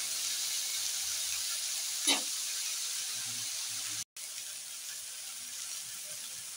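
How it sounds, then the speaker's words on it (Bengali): Kulekhara greens cooking in a pan, a constant soft sizzle with one brief scrape of stirring partway through, faint and without talk. "এটি কিছুক্ষণ এইভাবে নাড়তে হবে, যতক্ষণ না শাকটা কি ঢেকে যায়।"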